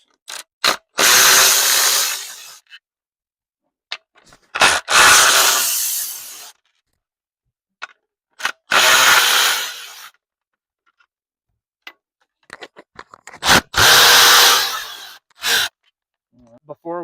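Power tool driving out four bolts from an Audi R8 shift assembly during a gated manual conversion, heard as four separate loud whirring bursts, each lasting one to two seconds, with short clicks and handling noises between them.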